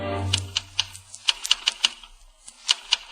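A typewriter clacks out a report as a radio-play sound effect in a 1938 insurance office, giving irregular sharp keystrokes with a bell-like ring, close and alone after a low hum fades.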